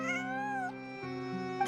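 A cat in the video game Genshin Impact gives a short, clear, drawn-out meow and then a second cry, with steady tonal game music held underneath. No one speaks.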